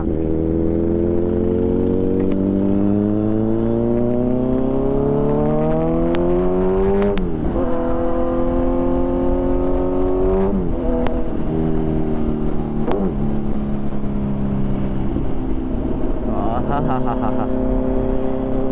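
A Kawasaki Z900 motorcycle engine revs and accelerates nearby, pitch climbing steadily through the gears with brief dips at each shift, loud and continuous.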